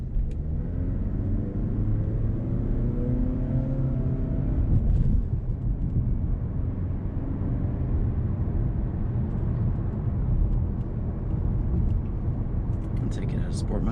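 A gray-beige 2019 Mazda3 sedan with the Preferred Package accelerates hard in sport mode, the engine note climbing steadily as it holds each gear longer, a loud, continuous rumble heard from inside the car.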